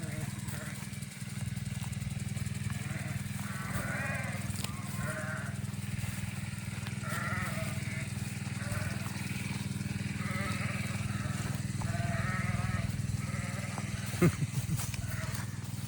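Sheep on a small farm bleat repeatedly as the flock heads off toward a gate, their calls coming in short bursts over a steady low engine drone.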